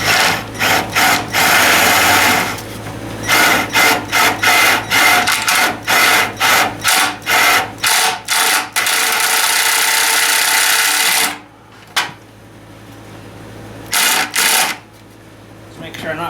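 A cordless power tool drives a screw into a corner during a new radiator install on a 1944 Ford 2N tractor, whirring in a long burst and then a string of short on-off pulses, close by with brief talk between bursts.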